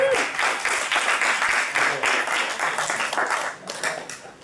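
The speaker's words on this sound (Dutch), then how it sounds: "vind ik dat wij toch wel een heel groot applaus verdienen" Audience at a neighbourhood pitch session claps heartily for several seconds, the applause rippling with individual hand claps before tapering off slightly.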